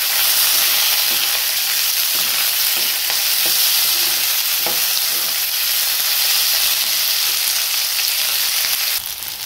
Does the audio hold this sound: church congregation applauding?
no